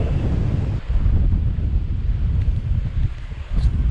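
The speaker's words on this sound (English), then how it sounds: "the wind is howling" Steady wind rushes and buffets the microphone in a low, continuous roar, with no voices.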